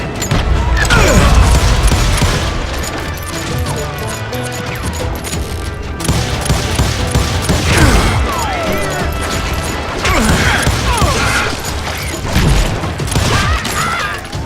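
Gunfire in the Western shooter game Call of Juarez Gunslinger, with dense volleys of shots, crashes and clattering effects running continuously and loud throughout, surging in bursts around the middle and end.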